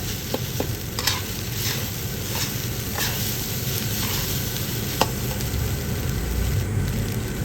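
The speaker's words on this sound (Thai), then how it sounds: "ผัดข้าวให้ร้อนเลยค่ะผัดข้าวกับกระเทียมเนี่ยนะคะ" Rice stir-fried with garlic in a hot pan, a continuous close sizzle broken by repeated scraping and tapping of a spatula against the metal, with no voices.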